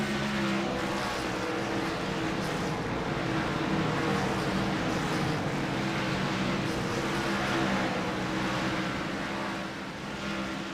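Racing karts roaring down the front stretch of a track, a dense, steady wash of many buzzing engines at moderate distance, with no individual pass standing out.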